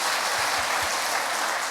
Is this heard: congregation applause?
yes